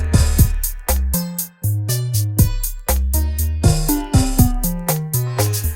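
A busy electronic beat from a Maschine MK3 scene, every group playing the same pattern at once, with punchy kicks, sliding bass notes and crisp hats repeating loudly in a steady rhythm, no voices.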